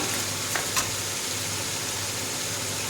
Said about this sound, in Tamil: இஞ்சி பூண்டு நல்லா வதங்கிடுச்சு. இப்போ தக்காளி போட போகிறேன்.